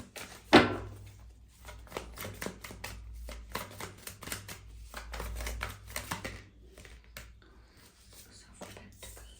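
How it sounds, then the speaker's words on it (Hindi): Tarot cards are shuffled by hand, making a fast run of crisp riffling and flapping clicks close up, preceded by a single sharp tap at the start. "मैं फिर से शफल करती हूँ।"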